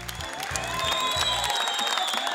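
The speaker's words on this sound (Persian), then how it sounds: "تشویق." Audience applause at a televised competition show: steady, dense clapping throughout, with a low pulsing tone under it for the first part.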